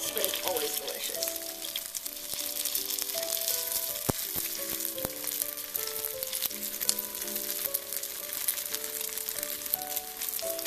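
Slices of steamed Vietnamese Lunar New Year cake, banh to, sizzle steadily in a hot pan, a constant crackling fry with faint background music tones running beneath.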